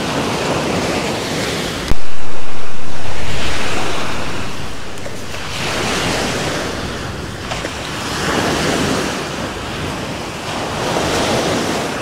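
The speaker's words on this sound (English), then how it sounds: "I love the sound of the water." Steady surf rolls onto the shore in broad, washing swells, with gusts of wind buffeting the microphone; no voices.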